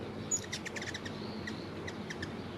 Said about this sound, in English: all those high-pitched chirps and chirkles that you hear, I'm sure you hear them